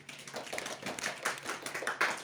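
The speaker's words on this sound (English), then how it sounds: "Give applause to Abdurrahman." Scattered clapping from a small classroom group, light and uneven, lasting a couple of seconds with no talking.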